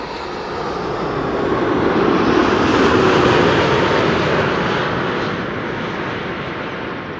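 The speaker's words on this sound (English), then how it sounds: "KLM flight 668, 787-10, arriving from Austin in Texas." A KLM Boeing 787-10 jet arriving from Austin, Texas, passes overhead as a steady, loud roar that swells to a peak midway and then slowly fades, with no talking.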